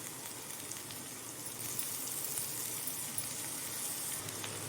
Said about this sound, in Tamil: இதில் வந்து நம்ம பொடுசாக கட் பண்ண கீரையை சேர்த்துக்கலாம்